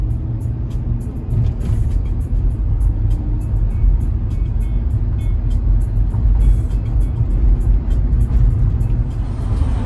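A car driving along a road on a trip up to Floyd Hill, with a continuous loud engine and road rumble heard from inside, steady throughout.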